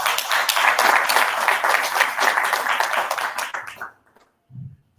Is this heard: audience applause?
yes